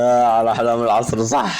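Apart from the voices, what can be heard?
No distinct noise like a dog, phone or traffic.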